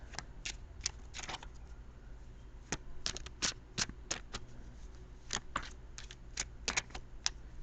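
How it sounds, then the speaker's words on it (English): Tarot cards being shuffled up close in quick, crisp bursts of riffling and snapping, with short pauses between rounds and no talking. "as I shuffle the cards"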